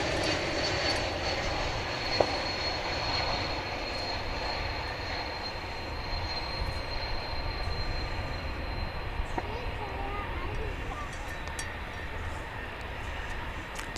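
A Delta Airbus A220 airliner arrives at DFW Airport, a steady, moderate engine rumble and whine that holds evenly throughout, with no one speaking over it.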